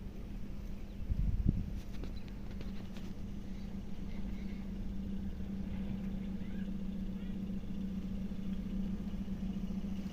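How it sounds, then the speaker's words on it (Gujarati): A car with an engine running, part of a Gujarati comedy sketch about a stolen car, idles at a steady level beside a road, with a brief louder rumble early on. No one talks. "હુઈ જા ગાડી આવે."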